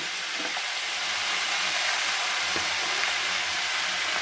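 Spinach leaves frying in a pan with tomato and ginger, a steady dense sizzle filling the background with a few soft scrapes of stirring.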